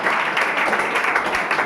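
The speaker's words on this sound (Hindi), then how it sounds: "ताली मार इसके लिए, ताली मार" Applause for a student during a Class 10 mega quiz competition at a coaching class, a dense, steady wash of many hands clapping close by, continuous and fairly loud throughout.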